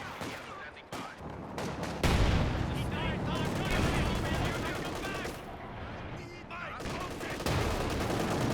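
Anti-tank guns fire repeatedly in a WWII strategy video game, with sharp cracks and booming blasts over dense, continuous battle noise that swells and stays loud.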